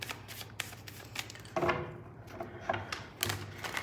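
Tarot cards being shuffled and drawn by hand, a close, quiet run of riffling flutters and soft snaps in short bursts, with no talking.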